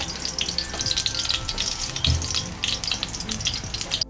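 Fenugreek and cumin seeds sizzle and crackle in hot oil for sambhar, a steady close frying hiss with small pops throughout and no talk.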